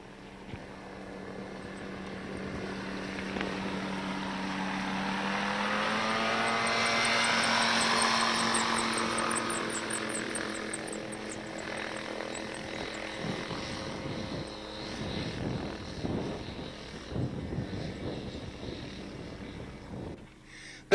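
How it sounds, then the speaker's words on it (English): An ultralight plane's engine and propeller drone, rising in volume as it passes close and then fading, with a shifting pitch and some rougher rattling noise toward the end. "ultralights are more powerful than the airplanes that the Wright brothers built and flew, and more powerful than Louis Blériot's airp"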